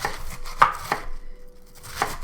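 Kitchen knife chopping cabbage for sauerkraut on a cutting board, three or four separate close crisp thunks with short pauses, no speech.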